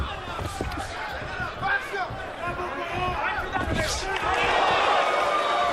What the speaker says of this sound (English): Crowd oohing and eyeing for the Bradley right hand.